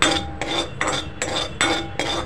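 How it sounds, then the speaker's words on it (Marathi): Cumin seeds being lightly dry-roasted in a pan are stirred in repeated scraping strokes, about six bursts of clinking, rattling metal-on-pan sound at an even rhythm, close and clear. "जिरं भाजून घ्या हलकंसं, जास्त भाजू नका नाहीतर ते कडवट लागेल"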